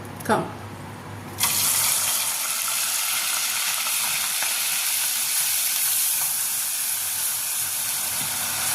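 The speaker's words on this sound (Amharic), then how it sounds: "ዘይቱ እንደዚህ ሲፈላልህ ዘይቱ ሽንኩርቱ ጥብስ ይላል ማለት ነው።" Onions sizzle in hot oil with cinnamon, garlic and bay leaf as the base for an Arab-style rice dish. A quiet start gives way to a sudden, loud, steady frying hiss that continues unbroken to the end.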